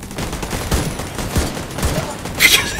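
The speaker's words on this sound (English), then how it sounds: "One of your damn turrets is shooting me in the legs." Automatic turret gunfire in the shooter game The Division 2, a rapid volley of sharp shots. The shots are close and fairly loud over game noise and come in several bursts across a few seconds.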